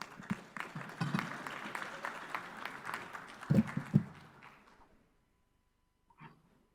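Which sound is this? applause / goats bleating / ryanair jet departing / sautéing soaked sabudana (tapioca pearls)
applause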